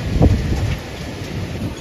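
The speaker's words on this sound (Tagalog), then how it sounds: "Ngayon, may kasabay naman ulan." Steady rain with gusting wind at a resthouse in Pasacao, with large waves nearby, a broad continuous wash of noise with a brief louder rumble near the start.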